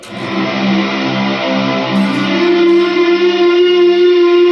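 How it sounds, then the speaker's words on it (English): Sustained fuzzy, distorted guitar notes from a Walrus Audio Slotva reverb pedal with fuzz swell and ring out under heavy reverb, loud and continuous with no talking. "So reverb with a little bit of the fuzz sounds great."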